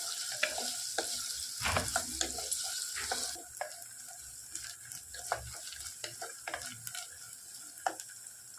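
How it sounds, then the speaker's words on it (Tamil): Finely chopped small shallots frying and sizzling in a pan for okra curry, with steady close crackle, occasional stirring scrapes and clinks, and no talk. "சின்ன வெங்காயம் பொடியாக கட் பண்ணி வச்சுட்டு அதையும் போட்டுருக்காங்க"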